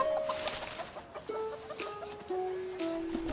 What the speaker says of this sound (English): Oh, not again! More chickens!